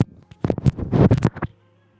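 A kitchen knife is drawn across an 8000 grit whetstone in a few quick, close scraping strokes, dense and gritty at first, then fading to near silence.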